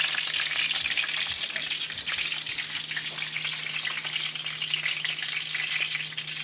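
Shrimp tempura fries in a pan of hot oil, an even, continuous crackling hiss at moderate level with a low hum beneath, no talking.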